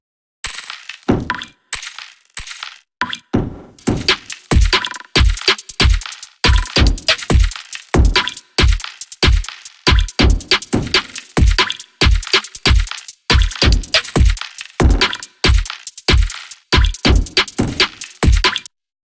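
Glitchy drums run through FabFilter Saturn with a random LFO sound as stuttering, choppy hits. The sharp clicks and clanky transients come in uneven bursts with abrupt gaps, loud and dry for the whole stretch.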